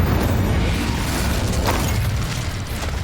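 Fiery blast of the Confringo spell in Hogwarts Legacy, a sustained rumbling burst with crackling debris that stays loud and dense throughout, with no voices over it.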